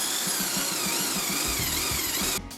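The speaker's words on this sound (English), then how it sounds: "I'm just going slowly and cut off these surfaces and try fitting on the bike" A handheld power tool whines steadily as it cuts into the base of a Harley Dyna Street Bob seat being trimmed to fit a Yamaha Virago motorcycle, a continuous close grinding drone that stops abruptly near the end.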